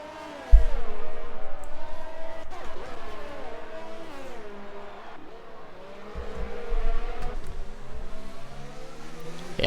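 Race cars accelerate in a Formula-style racing video game at the Azerbaijan Grand Prix, engines whining and rising in pitch through gear changes, with a commentator talking over them.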